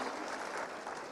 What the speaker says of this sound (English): Can we have a big round of applause for Sarmi Bai and all these wonderful women?